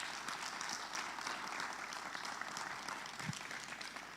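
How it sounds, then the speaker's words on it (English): An audience gives steady, full applause to welcome a choral conductor onto the stage at a singing masterclass. The clapping holds at an even level throughout. "please give a resounding round of applause to Mr. Xander Kritzinger"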